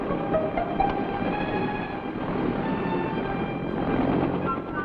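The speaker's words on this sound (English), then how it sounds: "The Huey takes off like an angry hornet." A US Army Huey helicopter lifts off on a Vietnam War combat mission around 1967, its turbine and rotor making a loud, steady, close roar that holds throughout without a break.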